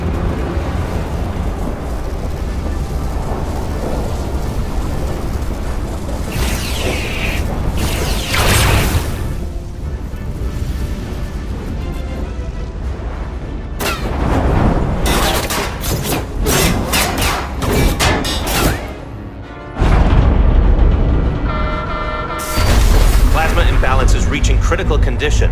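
Explosion of a docking clamp in the video game Star Trek Resurgence on PS4, heavy booming blasts and rumbling mechanical impacts layered over a continuous game soundtrack, with loud thuds clustered toward the middle and end.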